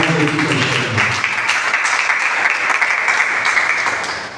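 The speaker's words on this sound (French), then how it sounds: "je vous prie encore une fois d'applaudir pour vous-même et pour la présence de tout le monde" Sustained audience applause at an awareness conference on the inclusion of women with albinism fills the hall, dense and steady throughout, with a few voices faintly mixed in at the start.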